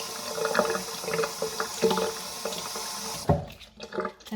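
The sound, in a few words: rinsing an object under a running water tap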